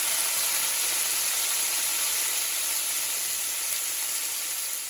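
Hot sauce sizzles steadily on bacon frying in a pan, a dense continuous hiss heard close with no talk.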